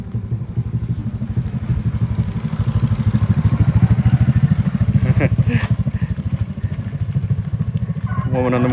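A motorcycle carrying a woman and a small baby goes by on a road in a Hmong village on Doi Pui near Chiang Mai, its engine a steady close mid-pitched drone throughout, with clattering and a voice talking over it.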